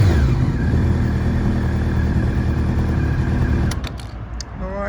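Honda CBR 600F sport motorcycle from 1999 with its engine running at a steady high rev, loud and close, then the roar drops off sharply near the end.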